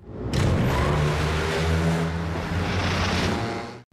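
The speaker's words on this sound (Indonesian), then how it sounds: "terlihat Elias dan Soeli menyaksikan Theo lagi mengetes motor buatan mereka semalam" A custom-built motorcycle being test-ridden in a film scene revs hard and roars past close up, a loud sustained engine rush that fades and cuts off abruptly at the end.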